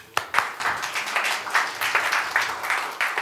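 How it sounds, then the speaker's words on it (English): A small group claps in a loose, uneven round of applause, individual hand claps distinct and fairly close, rising and falling in short bursts. "Okay, that is a round of applause."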